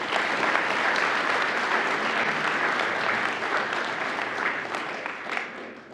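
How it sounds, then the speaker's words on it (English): Board of education meeting audience in Marysville gives the students a sustained round of applause, many hands clapping in a full, steady patter for around six seconds before gradually thinning out. "So let's give them a nice round of applause."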